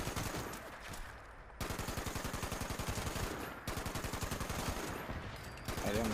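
Rapid automatic gunfire in a video game, loud and steady, comes in three long bursts with brief breaks between them, and a voice talks faintly underneath.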